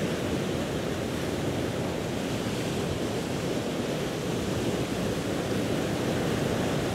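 Ocean surf rolling onto a sandy beach, a continuous broad hiss of breaking water with a steady low rumble, fairly soft and unbroken, with no voices present.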